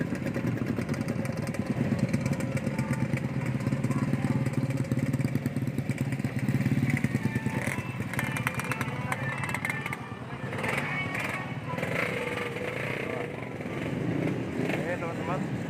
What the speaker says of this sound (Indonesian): Dengan suara yang khas ya, suara knalpot yang khas,